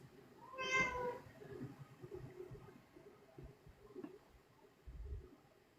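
A house cat gives a single clear meow near the start, followed by quiet low rustling and faint thumps nearby.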